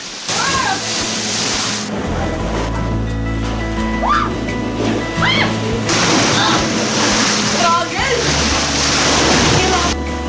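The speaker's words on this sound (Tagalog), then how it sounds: "Lakas ng alon!" Strong ocean waves crash and wash ashore at Boracay beach, a loud, surging roar that rises and falls in bursts while people talk and shout nearby.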